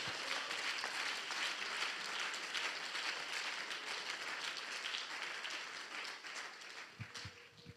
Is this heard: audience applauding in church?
yes